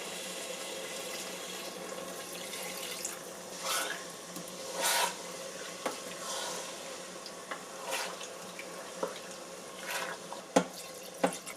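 Water running and splashing into a Crock-Pot Express multi-cooker pot over lamb, a steady faucet-like stream with a few clinks and drips near the end; no talking.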